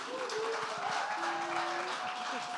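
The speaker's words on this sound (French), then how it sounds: "Une main d'applaudissement pour nos deux panélistes." At a cultural economy summit, a crowd applauds two panelists with steady clapping. A sustained tonal note and murmured voices run underneath the applause.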